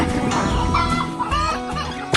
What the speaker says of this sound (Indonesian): Ayam-ayam itu terlihat sangat lahap menikmati jagung segar.